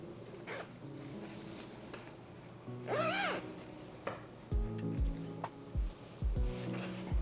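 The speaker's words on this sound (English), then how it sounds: "And now close the zipper." A zipper being pulled closed on a sewn drop-waist dress at a sewing table, heard as a short rising zip followed by several close, soft rubbing and tapping handling sounds as the fabric is moved.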